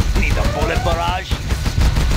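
Rapid bursts of gunfire from the Command and Conquer Generals real-time strategy game crackle in quick succession, mixed with in-game unit voice lines.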